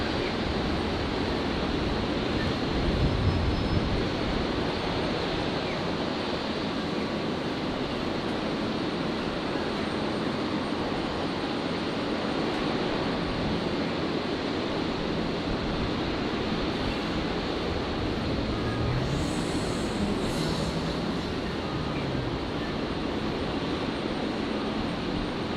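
A Qantas airliner on its takeoff roll at Brisbane airport gives a steady, broad jet roar that holds constant throughout, sounding fairly distant and unbroken, with no voices.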